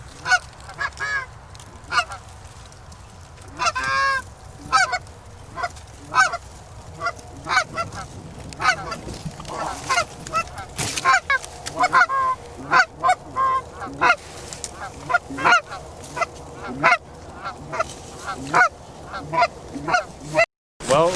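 A small flock of about five geese honks repeatedly during a goose hunt over a decoy spread, with loud, close calls in irregular bursts and occasional hunter voices underneath.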